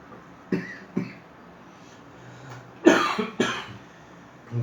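A man coughs after choking on a sip of coffee: two sharp single coughs, a pause, then a heavier harsh burst of two or three coughs close by in a quiet room.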